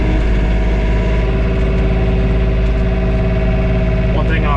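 A John Deere 3046R tractor engine running steadily, heard from inside the cab during a blizzard, a loud constant droning hum with an even rumble and no breaks.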